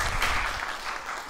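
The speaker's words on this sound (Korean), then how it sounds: "박수 한번 쳐주세요." A church congregation at a Sunday worship service breaks into brief applause, soft and steady clapping heard at a distance in a reverberant hall.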